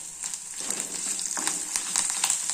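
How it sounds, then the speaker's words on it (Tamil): A bunch of curry leaves crackles and sizzles in hot oil for tomato chutney, a dense spitting fry heard up close for a couple of seconds without talk. "வாசனைக்காக ஒரு கொத்து கருவேப்பிலை"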